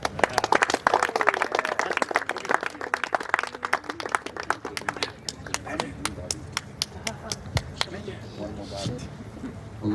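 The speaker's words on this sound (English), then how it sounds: "Ladies and gentlemen, give a loud applause to our newlywed couple." Wedding guests applauding a newlywed couple: dense crowd clapping at first that thins into scattered individual claps, with voices murmuring in the room.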